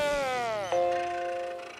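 A cartoon robot's reboot chime from SpongeBob SquarePants, modeled on the classic Macintosh startup sound, plays as a rich sustained electronic chord that shifts to a new pitch partway through and then slowly fades. Nobody speaks.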